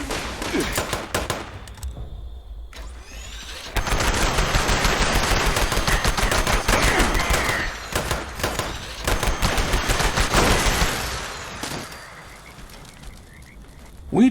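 Shotgun fire at bots in Fallout 76, blasting in a long, dense run of loud, rapid reports with only brief gaps, fading toward the end.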